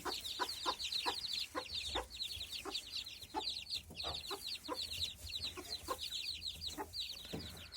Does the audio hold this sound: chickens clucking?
yes